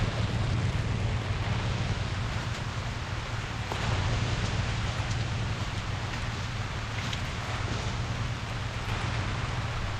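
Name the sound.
heavy rain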